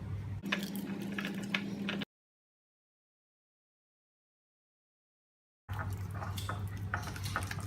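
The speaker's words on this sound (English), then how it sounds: "First you're going to peel the banana and you mush a lot" A peeled banana is mashed in a bowl for pancake batter, giving soft wet squishing with light clinks of utensil against dish, in two bursts separated by a stretch of silence.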